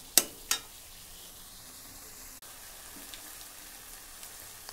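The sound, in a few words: egg and chowmein frying in a pan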